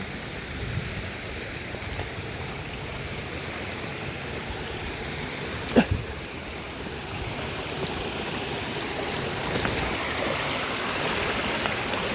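Creek water flowing steadily along a hiking trail in the Ozarks near Taum Sauk, a broad continuous rushing wash, close and even, with one brief knock partway through and no talking.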